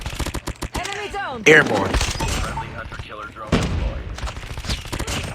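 Rapid bursts of video game gunfire crack in quick, uneven volleys, heard close and loud while someone talks over the shooting.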